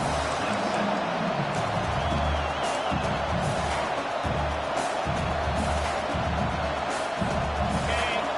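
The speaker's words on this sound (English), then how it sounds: "The roar of the crowd trying to fuel this defense to keep them pinned in their own end." Football stadium crowd roaring late in the first half as the home defense tries to keep the opponent pinned deep, a steady dense wash of voices and cheers with occasional whoops throughout.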